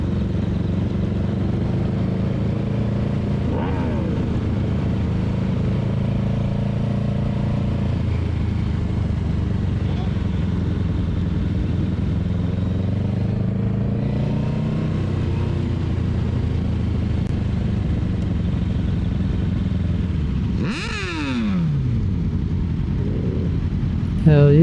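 A loud motorcycle engine at a bike night rumbles steadily nearby with rising and falling revs, joined by other passing engine noise and a sharp sweep near the end, while people talk under it.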